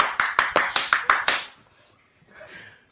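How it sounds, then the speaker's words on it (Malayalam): Seven sharp hand claps from people in a quick, even rhythm over the first second and a half, close and loud, followed by quiet room noise and faint voices. "കൈയടിക്ക്"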